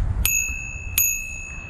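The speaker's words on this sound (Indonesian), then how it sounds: "belnya ini masih manual" Two crisp rings of a manual handlebar bell on a folding electric bicycle, struck about 0.7 seconds apart, close and clear, each with a ringing tone that lingers and fades over a low background hum.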